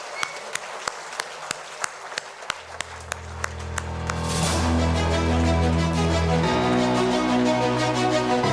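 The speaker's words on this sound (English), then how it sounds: "a bigger round of applause" Audience applause at a BSNL Bharat Fibre Championship League felicitation ceremony, a steady sequence of regular ticks swelling into dense, sustained clapping over a bed of music.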